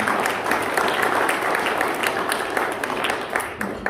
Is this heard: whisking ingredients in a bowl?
no